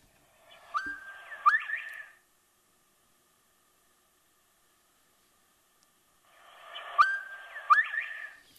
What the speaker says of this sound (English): And this is the one that everybody's so familiar with about Quail call.